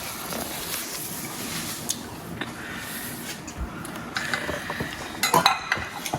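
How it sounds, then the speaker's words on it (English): Utensils clink and scrape against a dish while poking holes into a cake before a butter, sugar and rum sauce is added, soft scattered taps and a few brighter clinks near the end, with no talking. "we're putting holes into the cake because there's a sauce that we're going to be adding to it"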